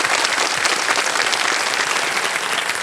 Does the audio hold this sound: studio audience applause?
yes